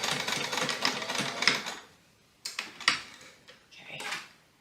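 A Kenmore sewing machine stitches at a moderate pace in a close, rattling burst, stops, then runs again in a few shorter stop-start spurts, with no talking.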